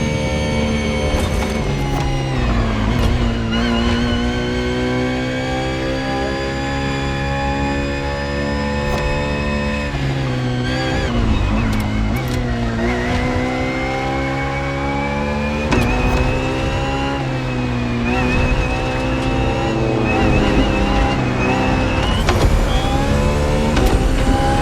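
The engine of a Ferrari FXXK in The Crew Motorfest, a sustained loud whine whose pitch climbs and dips through several gear changes over about twenty-five seconds, with no talking.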